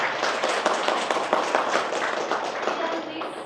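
Students clapping together in a classroom, a brisk burst of many hands with uneven sharp claps that taper off after a few seconds.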